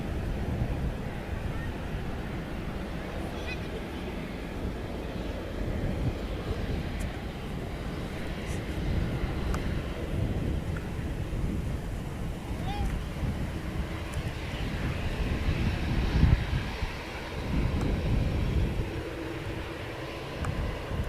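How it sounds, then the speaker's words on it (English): An airliner departing Manchester Airport for Venice, a steady broad jet roar with wind buffeting the microphone, rising slightly and holding throughout, heard from a distance. "Finally departing. Off to Venice, this one"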